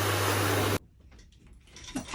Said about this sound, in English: You probably won't have a dryer like this at home.